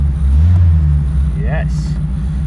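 A Morris 1300 barn-find car engine idles with a heavy low rumble, then a single brief blip of the accelerator pedal lifts the note before it settles back; a voice speaks briefly over it.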